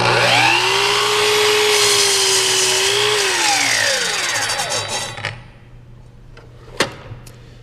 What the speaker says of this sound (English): I'm going to cut through the piece of wood